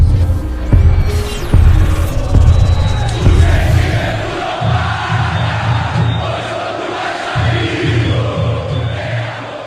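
Channel intro jingle for a Vasco football news show, loud and dense with booming crowd-like roars, thumping low pulses and rising sweeps, with a voice briefly heard.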